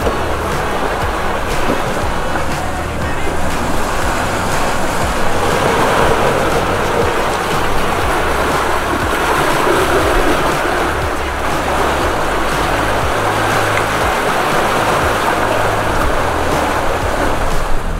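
Ocean waves and strong wind rush steadily around a sailing boat on an open-ocean passage during a developing squall, a loud continuous wash of water and wind noise with no voices.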